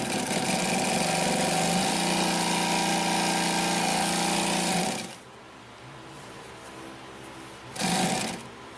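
A Consew P1206RB upholstery sewing machine stitches steadily, a loud rhythmic mechanical hum for about five seconds, then drops to quiet before a short final burst of running.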